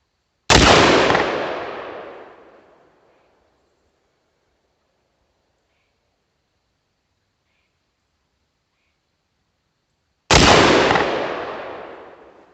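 Two loud rifle shots fired with a brass catcher attached, each a sharp crack with a long decaying tail, spaced about ten seconds apart with near silence between them.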